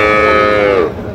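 A large-breed heifer calf at the Raniganj cattle market lets out a single loud, close moo lasting almost a second, followed by a low background murmur of the market.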